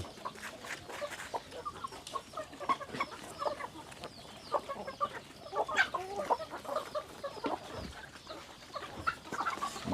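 Backyard chickens at feeding time on a rural farm, clucking and chattering continuously in a busy, close flock with overlapping calls and no talk.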